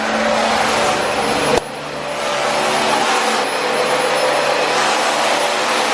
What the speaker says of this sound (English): We are vacuuming.